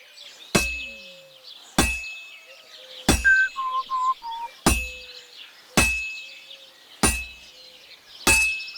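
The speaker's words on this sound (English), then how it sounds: "Now take the hammer and try hitting it a few times." In Kingdom Come: Deliverance II, a smith's hammer rings on a heated sword blade on an anvil in seven sharp, evenly spaced metallic clangs, loud and close, with faint birdsong between strikes.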